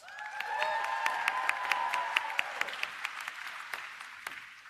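Audience applause for an associate dean at a college graduation ceremony. A sustained tone fades early while scattered, distinct claps ring out and taper off toward the end.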